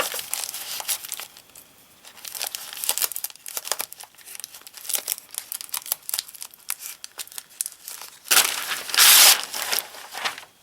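Tape is wrapped around the head of a handmade craft figure to shape a pointed nose, giving continuous close crinkling and crackling with a louder, harsher tearing burst near the end, with no talking.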